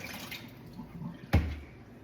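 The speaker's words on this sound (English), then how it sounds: "I'm going to drain off some of the water off of the shrimp" Water being drained off cooked shrimp in a kitchen, soft trickling and dripping followed by one brief, louder splash as the liquid pours out nearby.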